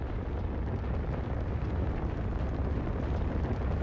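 A deep, continuous volcanic eruption rumble from the video game LIMBO, loud and steady with dense low roaring and crackle throughout, no voices.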